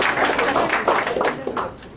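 An audience applauds steadily as council members are introduced at a provincial council training-report meeting, a dense patter of clapping with a voice speaking over it.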